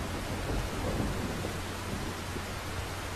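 Steady, dense rain pours in the Silent Hill: Downpour video game, a loud broadband hiss with low rumbling underneath, continuous and even throughout with no voices.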